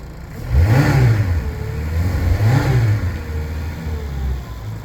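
A 2004–05 Mercury 60hp inline four-cylinder EFI four-stroke outboard revs up twice in quick succession, each throttle blip rising and falling over a steady running drone, loud and close with no talking.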